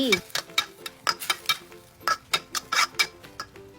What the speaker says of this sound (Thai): ผัดให้เห็ดสุกดี